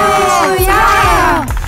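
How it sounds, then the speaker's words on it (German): Girls scream with joy at the sight of their crushes, a loud, continuous stretch of high, excited crowd shrieks and whoops lasting under two seconds. "Die Mädchen schreien vor Glück, wenn sie ihre Crush sehen."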